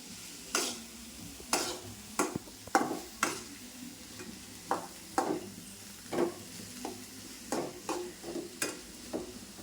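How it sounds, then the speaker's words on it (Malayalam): Chilies frying in a pan for bread egg masala are stirred in a steady series of sharp scraping strokes, about a dozen over several seconds, with a soft sizzle underneath and no talk. "ഇനി നമുക്ക് ഒന്ന് ഇളക്കി കൊടുക്കാം."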